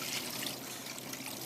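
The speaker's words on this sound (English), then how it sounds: "And then you are going to add 10 cups of cold water." Cold water poured into a pot of fish stock with bay leaves, peppercorns and parsley stems, a soft continuous trickling splash at a fairly quiet, even level.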